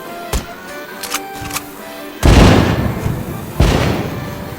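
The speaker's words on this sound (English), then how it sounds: "Light up those fireworks," Fireworks going off in a PSVR game: a few faint pops, then two loud booming bursts with crackling tails, close and strong, with no talk.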